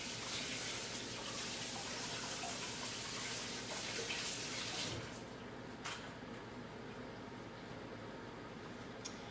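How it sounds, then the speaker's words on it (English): Water from a kitchen tap runs steadily while hands are washed under it, a broad close hiss that eases slightly midway with a few brief splashes, no talking. "I'm gonna wash my hands first."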